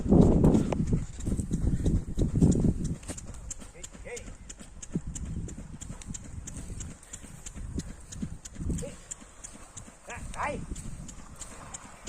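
Two bullocks drag a wooden levelling plank across a farm field with a man standing on it, giving a steady shuffle of hoof steps and scraping at close range, with an indistinct voice now and then.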